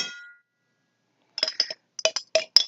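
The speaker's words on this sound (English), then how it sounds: "Just clinking glasses and spoons in jars." Glasses clinking and spoons tapping in jars while mixing food for a Thanksgiving livestream: a brief ringing chime, a pause of silence, then a quick series of sharp, bright clinks close up.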